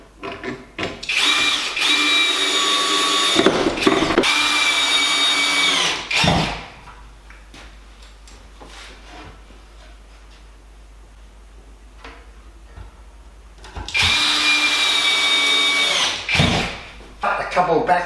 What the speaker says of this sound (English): So it's just a matter of screwing them together.